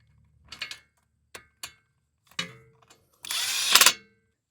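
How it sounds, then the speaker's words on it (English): Power tool driving caliper bolts tight on a Toyota RAV4 during a wheel bearing replacement, heard as a few short separate bursts followed by one louder, sustained whirring run close by. "just make sure your caliper bolts are tight"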